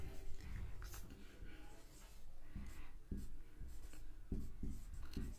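Pen writing by hand on paper while working a calendar math problem, a steady scratchy stroking with short pauses between marks, close and fairly quiet.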